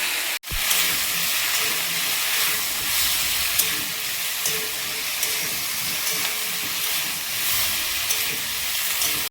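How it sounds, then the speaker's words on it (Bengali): Rohu fish frying in hot oil in a pan makes a loud, continuous hissing sizzle that stays steady and close throughout, with no talking. "মাছগুলো ভাজা হয়েছে তুলে নেবো নিয়ে বাকি মাছগুলো ভেজে দেবো"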